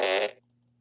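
A fart sound effect gives one loud, buzzy, rippling blast that lasts about a quarter second and then cuts off abruptly into near silence.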